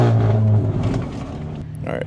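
Volkswagen Jetta GLI lined up against a Camaro at a drag strip, a car engine droning then revving briefly, close by, with people talking over it.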